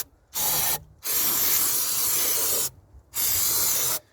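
Carb cleaner is sprayed onto engine parts during a service of a Rover 45 Impression CVT, in four sustained, loud, close hissing bursts, each about half a second to one and a half seconds long, separated by short pauses.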